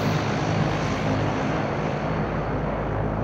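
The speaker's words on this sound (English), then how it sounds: "that plane's sounding like it's getting close" A propeller airplane drones loudly overhead in a PUBG match, a steady, dense engine roar that holds without pause and sounds close, with no talk over it.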